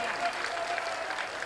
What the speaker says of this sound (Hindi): गर्व से एक बार बिहार के लोगों के लिए ताली बजानी चाहिए।